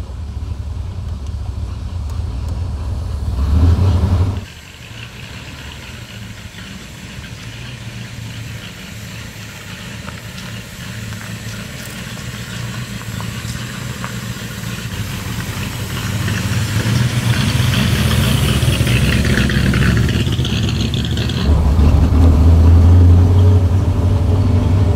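Original engine of a 1938 Horch 951 A Pullman Cabriolet, a large prewar luxury car, runs steadily at a low idle throughout, with the rumble swelling louder near the end as it revs up.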